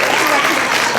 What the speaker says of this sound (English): Can we get a round of applause for our young